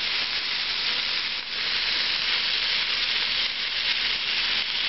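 Spicy chili chicken drumsticks fry in a pan with a steady, dense sizzle and hiss, loud and close, holding an even level with one brief dip.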